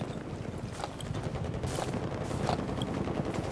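Dense automatic gunfire from a Battlefield 3 match on Sharqi Peninsula, steady bursts crackling continuously with wind-like background noise and a few sharper shots standing out.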